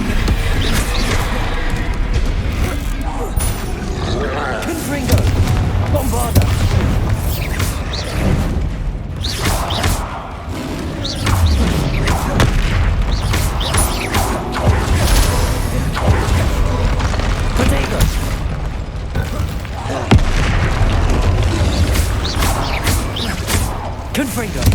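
Confringo and Bombarda spell blasts in Hogwarts Legacy, a steady run of booming impacts, whooshes and thuds layered over dense game noise, loud and continuous, with a voice speaking over the action.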